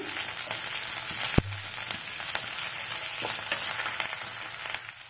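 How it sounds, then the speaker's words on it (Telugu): Large onion pieces fry in a pan for palak paneer, producing a steady close sizzle with occasional stirring scrapes and one sharp knock early on, with no voices. "ఇవి కొంచెం ఫ్రై అవనివ్వాలి."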